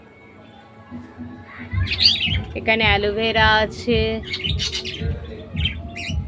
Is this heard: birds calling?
yes